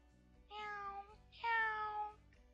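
Two drawn-out cat meows from the video game MapleStory, close and clear, each rising and falling in pitch, over a soft repeating background pattern.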